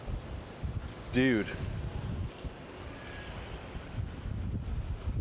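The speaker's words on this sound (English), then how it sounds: "Wow, the wind is very strong now." Strong wind buffets the microphone with a steady low roar on a city street in the An Thuong area of Da Nang, Vietnam, while someone briefly speaks over it.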